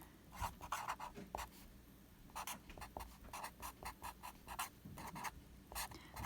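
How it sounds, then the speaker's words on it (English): Chalk or marker strokes scratching out a formula on a board, a series of short rhythmic bursts with brief pauses, close and fairly quiet, with no talking. "So I'll write the alternative formula up here."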